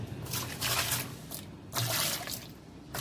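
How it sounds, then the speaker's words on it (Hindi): Water is poured into a homemade cleaning mixture, producing splashing, trickling pours in two louder bursts with quieter gurgling between them, close up and without speech. "अब देखिए हम लोग पानी डालने जा रहे हैं।"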